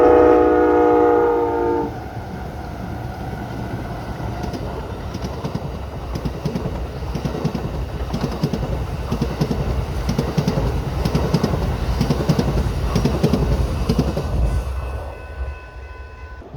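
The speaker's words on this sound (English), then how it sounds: "This morning, the Empire Builder was led by 3 Siemens Chargers." An Amtrak Empire Builder passenger train led by three Siemens Charger locomotives sounds its horn briefly. The train then rolls past close by with a loud, sustained rumble and rhythmic wheel clatter that fades away at the end.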